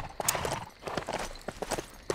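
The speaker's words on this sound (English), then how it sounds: "Riding off into the sunset on our horse Leroy" Hooves clip-clop in quick, steady rhythm as a horse is ridden in the LEGO Worlds video game, with sharp repeated knocks at close range and no talk over them.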